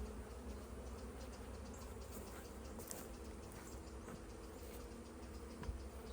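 Honey bees buzz steadily around a nuc hive during a beekeeping inspection outdoors, a continuous low hum of many wings that holds evenly throughout with no voices.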